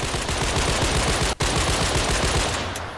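M14 rifle fired in a video game, a dense loud stream of rapid shots with a brief gap partway through, then continuing and tailing off slightly.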